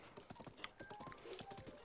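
A horse's hooves clip-clop in the video game Breath of the Wild, a quick run of close, distinct hoofbeats in an uneven trotting rhythm.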